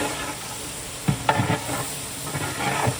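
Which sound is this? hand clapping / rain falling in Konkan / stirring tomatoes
stirring tomatoes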